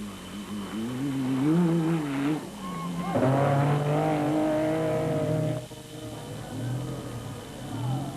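A rally buggy engine, mounted over the rear wheels, revs and whines at varying pitch during the 1999 Dakar Rally, rising and falling as it accelerates, while someone talks over it.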